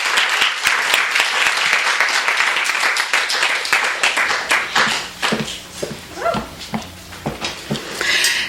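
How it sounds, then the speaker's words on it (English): An audience applauds at a graduate writing students' reading at Otis College: dense, steady clapping that thins into scattered, fading claps near the end, with no speech over it. "Let's give a warm round of applause."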